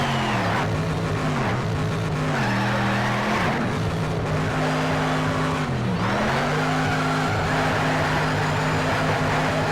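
A Dodge Challenger racing at Silverstone National in NFS: Shift spins out, its tires squealing loudly and continuously over a droning, shifting engine note, the skid rising and falling in pitch as the car slides.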